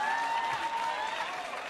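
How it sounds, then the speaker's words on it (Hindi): An audience at a political gathering claps in a brief, fairly faint burst, a steady patter of many hands with a faint tone running underneath. "ताली बजाइए भाई"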